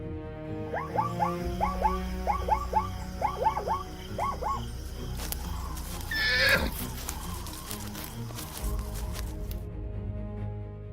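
Grant's zebras in the African wild give a run of repeated braying whinnies, several calls in quick succession, fairly near, followed by louder broadband rustling and a brief bright cry over a low outdoor rumble.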